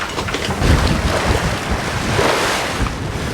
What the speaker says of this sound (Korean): 먼 바다까지 나와 그런지 파도가 꽤 높습니다